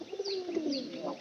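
Pigeons cooing nearby, a steady low murmuring coo running through the short moment with faint chirps above, no voices.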